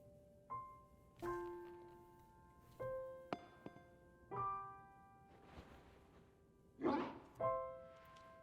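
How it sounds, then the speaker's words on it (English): Mabostif, a dog Pokémon in Pokémon Scarlet, lets out several short, tonal bark-like calls spaced a second or two apart, moderately loud and close, with a rougher burst near the end amid sparse game sounds. "See, that's an actual woof."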